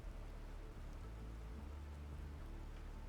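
Steady rain falls in a flood-themed video game, a soft, even hiss with a low rumble beneath, quiet and continuous without breaks or voices.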